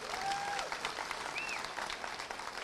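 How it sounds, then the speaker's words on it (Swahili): A crowd at a political rally in Magarini, Kenya, claps for a politician in a brief, faint, distant burst of applause, with a couple of whistles rising above it. "Tupigie Kalonzo makofi."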